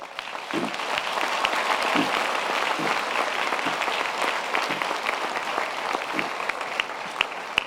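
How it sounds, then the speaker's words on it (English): Sustained applause from a large crowd at a university graduation ceremony, steady and dense clapping filling the space throughout, with a few louder individual claps standing out near the end. "let's give them a special round of applause."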